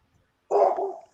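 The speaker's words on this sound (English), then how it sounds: "Whose dog is that?" A single short dog bark, fairly close and clear, after a brief moment of quiet.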